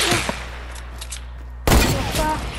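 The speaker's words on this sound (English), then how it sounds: "no scope with a hunting rifle!" A hunting rifle fires in Fortnite: a faint click comes early, then a sudden loud, close blast lands near the middle and rolls straight into a sustained noisy rumble that carries to the end.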